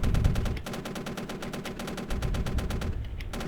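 Rapid sustained bursts of helicopter gun fire in the Arma 3 combat game, loud and close, a steady stream of shots with a brief dip before resuming, no voices.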